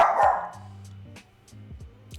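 A dog gives one sharp, loud bark followed by a few shorter, softer yips and whines, heard close by with no talking.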